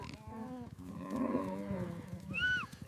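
Brahman cattle low repeatedly on a ranch, several drawn-out moos rising and falling at moderate distance, with faint activity in the background.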